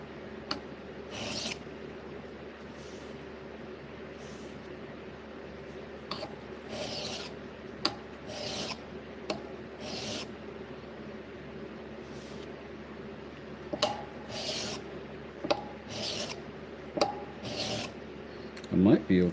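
A knife blade scrapes in repeated rasping strokes across a coarse, heavy-grit sharpening stone, each pull a short gritty swish that comes in uneven bursts, close and clear over a quiet background.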